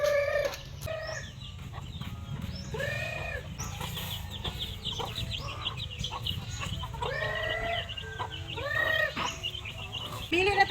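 Chickens on a farm cluck and call repeatedly in overlapping bursts, with an occasional rooster-like crow, steady and fairly close against a constant background hum, with some voices mixed in.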